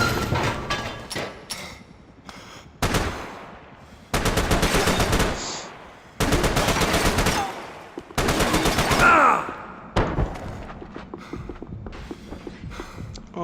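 Loud bursts of automatic gunfire from the video game Max Payne 3, several long rattling volleys separated by short pauses, with scattered single shots and impacts between them.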